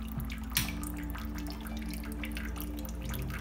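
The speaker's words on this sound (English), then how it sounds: "You hear the auto top off system just kicked on." An aquarium auto top-off system kicks on, adding a faint, steady trickle and drip of water under the continuous hum of the tank equipment, with one brief splash near the start.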